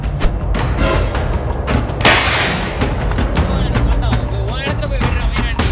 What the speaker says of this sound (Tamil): வாங்க ப்ரோ, வெடி வெடிக்கலாம்